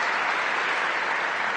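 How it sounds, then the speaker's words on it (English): A tennis crowd claps for a special return in a women's match in Stuttgart, a dense, even wash of applause that holds steady at a fairly loud level for the whole moment. "And Azarenka applauds"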